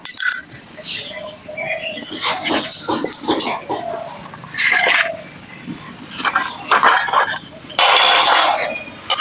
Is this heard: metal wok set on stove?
yes